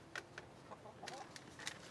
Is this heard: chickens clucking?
yes